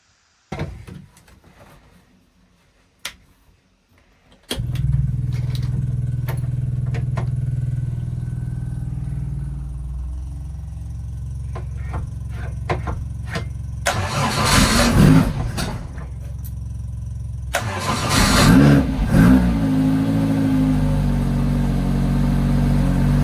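A TVR Vixen with a crossflow engine cranks briefly, fires and settles into a lumpy cold idle, then is revved hard twice in loud bursts before dropping back to idle, close by with no talk.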